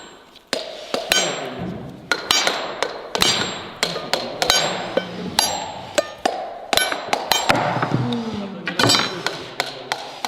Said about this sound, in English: I want to show you how easily the coconut comes out.